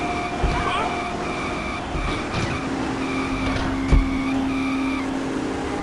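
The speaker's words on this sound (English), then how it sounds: "he refused to stop the car and instead continued driving uncontrollably" A car in the video game GTA III drives steadily with a continuous engine drone, brief tire noises and a short bump near the end, while music or background tones play beneath.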